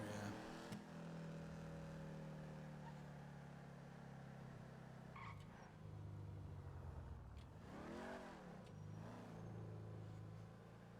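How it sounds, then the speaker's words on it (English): A car engine revving in a TwitchRP game, a steady hum with rising and falling pitch sweeps as it accelerates, quiet and continuous, with faint voices underneath. "It's probably a local car"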